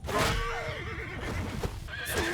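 Horses whinnying in a medieval strategy video game, with overlapping wavering neighs and a rising second call near the end over a busy battle din.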